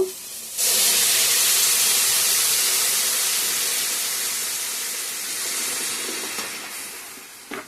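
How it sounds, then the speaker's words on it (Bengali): Hot water poured onto fried spices in a pan sets off a sudden loud sizzling hiss that starts abruptly, then fades slowly over several seconds. "তো ভালো করে কষানো হয়ে গেছে মশলার সঙ্গে গরম জলটা দিয়ে দিব"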